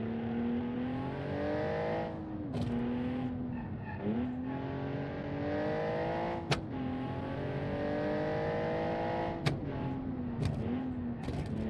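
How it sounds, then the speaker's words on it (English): A tuned car's engine and exhaust rev hard in a touge mountain-road racing game built in Automation, the steady loud engine note rising and dipping with gear changes and brief sharp pops. "the exhaust sounds amazing and the brakes are fading"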